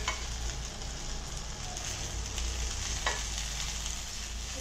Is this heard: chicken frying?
yes